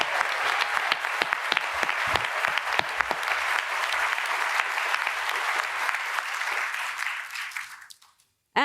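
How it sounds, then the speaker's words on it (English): A crowd at a union governor candidate forum gives its moderator and journalist panel sustained, even applause that carries for several seconds before fading quickly to silence, followed by a brief sound at the very end. "Let's have a round of applause for our moderator and our panel of journalists."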